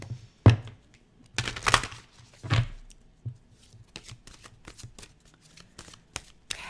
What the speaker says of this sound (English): I'm just going to get a couple cards from the Sacred Power Healing